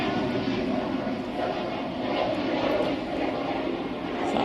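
An aircraft departing Manchester Airport for Amsterdam produces a steady broadband engine roar at moderate distance, holding level throughout without speech.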